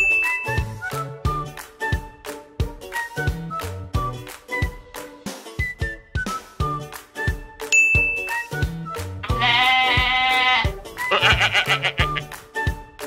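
Sheep bleats ring out twice among bright chiming, tinkling toy sounds and music in a children's play-dough cooking game, loud and close, with no talk.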